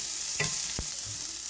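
Green chili fries in a pan over a reduced flame, a steady close sizzle with a few brief stirring scrapes on top.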